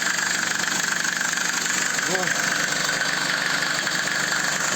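A turbocharged 2.3-litre Mercedes OM601 diesel fitted in a Volga GAZ-24 runs steadily near the microphone with a constant rattling clatter and whine, and brief voices join it midway.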